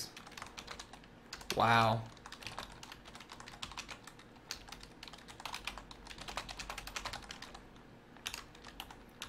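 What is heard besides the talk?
typing on a computer keyboard in a typing game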